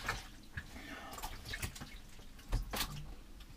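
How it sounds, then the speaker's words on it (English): Socks being washed by hand in a small basin of water inside a camper van, faint close splashing, sloshing and dripping with soft wet squelches in irregular bursts. "washing out my socks"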